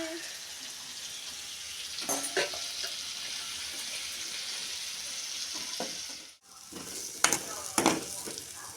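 Raw banana pieces fry in a pan with a continuous, moderate sizzle, broken by a few clattering stirs of a utensil and a brief pause.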